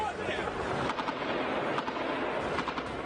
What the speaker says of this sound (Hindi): काफी देर तक गोलियों और धमाके की आवाजें आती रही